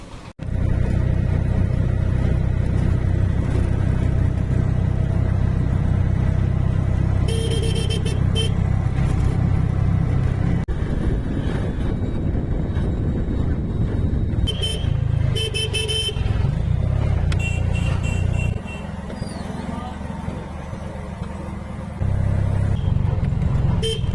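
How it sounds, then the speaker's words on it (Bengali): Loud auto-rickshaw ride through traffic with a steady engine drone throughout, broken by several short bursts of horn honking from nearby vehicles; no clear talking. "আমরা এখন এই অটোটায় করে যাবো"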